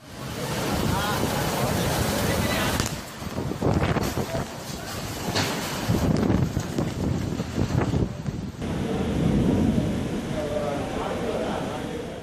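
A sudden city thunderstorm with strong wind gusts and rain, loud roaring wind noise with surging rumbles and a possible thunder crack, continuous and close.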